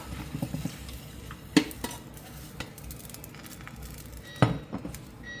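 Tofu and egg sizzle softly in a frying pan as a plate is set over it and the pan is flipped, giving two sharp clattering knocks against a quiet background of frying.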